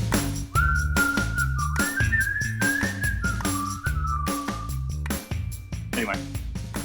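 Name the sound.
person whistling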